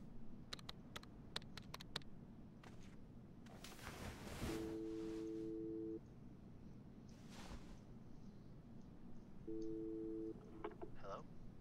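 Phone ringing in Life is Strange 2, two long electronic ring tones a few seconds apart over faint background ambience with scattered clicks.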